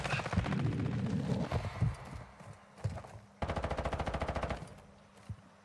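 Gunfire in the video game Call of Duty Modern Warfare II on the Al Mazrah map, with scattered shots and thumps followed by a loud, steady automatic burst of evenly spaced rounds, then a final single shot.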